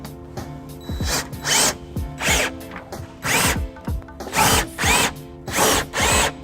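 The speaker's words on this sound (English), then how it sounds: "take the electric drill socket and tighten." Loud bursts of an electric drill driving a socket to tighten a bolt during a 2016 BMW X1 trailer hitch install, each whirring rise under a second, repeated about nine times in a steady rhythm.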